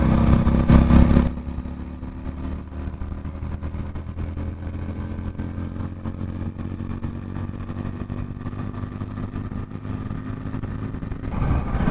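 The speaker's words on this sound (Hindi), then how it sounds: "तो इस बाइक का थ्रॉटल का रेस्पॉन्स एक बार देख लेते हैं।" A Hero Splendor Plus BS6 motorcycle with a 100cc fuel-injected engine revs sharply at first, then settles into a steady, close, slightly clattery idle that runs on for several seconds.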